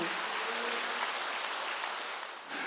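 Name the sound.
congregation clapping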